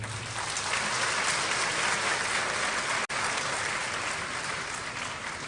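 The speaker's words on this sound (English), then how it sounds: "Please applaud him." Broad, steady audience applause at the 58th KNUST university congregation in Ghana, a large crowd clapping continuously with a brief dropout midway.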